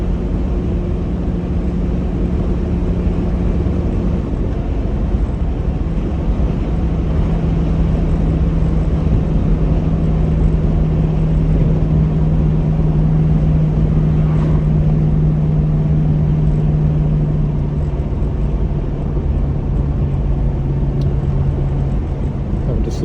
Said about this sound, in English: Beautiful creamy smooth V8 on this.